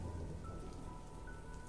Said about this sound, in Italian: il fracasso provocato dalla pioggia sul tetto